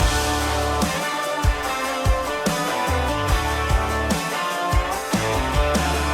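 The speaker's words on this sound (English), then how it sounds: "here's the big riff that drops in" A loud, driving electric guitar riff with a full band, chunky repeated chords and steady drum hits rolling along without any singing.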